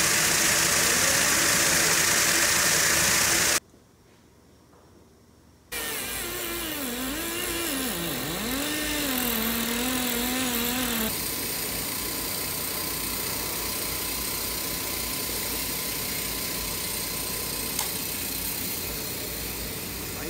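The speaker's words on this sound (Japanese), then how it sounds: "石と水とコンパウンド入れて回すっていう、こんな感じで" A rotary barrel polisher in a Takaoka, Toyama brass workshop turns brass pieces with stones, water and polishing compound, giving a loud continuous mechanical rumble and whir that drops out briefly and then resumes steadily.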